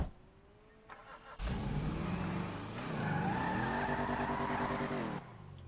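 A car in the video game GTA Online starts up, then revs hard with screeching tires and a loud, sustained engine roar for several seconds before cutting off abruptly.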